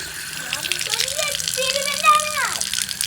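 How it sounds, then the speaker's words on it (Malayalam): Water pours steadily into a container, its gurgling tone rising in pitch as the vessel fills over a couple of seconds. "ഇതിൽ ഞാൻ പോയി വെള്ളം ഒഴിക്കുന്നത്."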